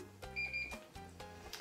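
A kitchen cooking machine, a Magimix CookExpert or Kenwood CookEasy+, gives a few short electronic beeps in a rapid series, fairly faint with no talk over them.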